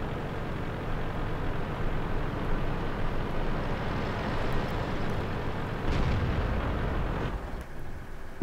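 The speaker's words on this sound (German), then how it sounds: "Einen Schuss hier abgefeuert." Steady broadband rumble of battle noise from World of Tanks, with a tank gun shot mixed into the dense low roar and a brief sharper burst near the end.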